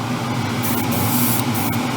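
Airbrush spraying paint onto the bodywork of an Alpha Model Ferrari 812 Superfast model car, a continuous close hiss with a steady low hum from a fan underneath.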